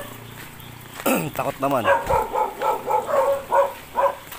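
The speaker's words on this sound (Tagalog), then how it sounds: "may aso din dito eh." A dog barks in a rapid run of short, evenly spaced yaps, following a brief human voice at the start.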